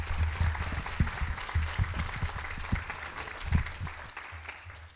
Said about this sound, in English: one more big round of applause for all of our honorees here today